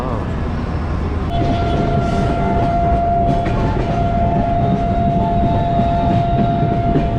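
An Indian train moves past in a loud, steady rumble with a sustained tonal whine running through it, near and continuous throughout, with voices faintly mixed in.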